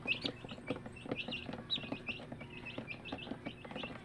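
Chicks chirping in a busy, continuous chorus of high, thin peeps, many birds close together and fairly soft, with no talk.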